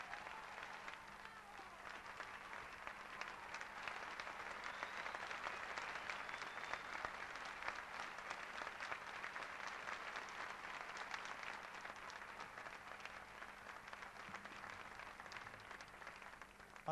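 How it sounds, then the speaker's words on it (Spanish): A theater audience applauds the maestro at a concert, with sustained, even clapping from a large crowd that holds steady for the whole stretch and sounds somewhat distant. "un fuerte, fuerte aplauso para él"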